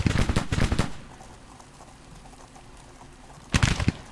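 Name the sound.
Civil War gunfire in Grand Tactician video game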